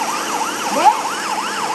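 A police car siren in the game Car Parking Multiplayer wails, rising and falling in steady repeated sweeps, loud and close, with a synthetic, game-like tone and no voices.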